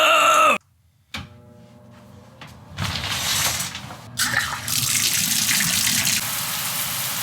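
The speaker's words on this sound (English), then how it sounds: "I love this shower head" A home shower head sprays water in a steady, hissing rush that starts after a brief quiet moment and then runs continuously and close, with no talking over it.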